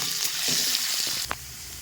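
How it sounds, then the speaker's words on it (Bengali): Potatoes seasoned with turmeric and salt fry in hot oil with a close, even sizzle, followed by a short stirring knock near the end before the hiss settles. No voices are heard. "এবার দিয়ে দেবো হলুদ আর এবার দিয়ে দেবো একটু লবণ দিয়ে আলুটা ভাজবো।"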